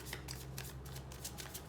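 Tarot cards being riffled and shuffled by hand, a short burst of quick crisp flicks in a quiet room, close and faint.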